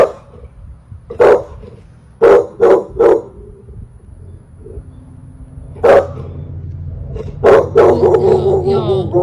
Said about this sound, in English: Dog's having a go, look.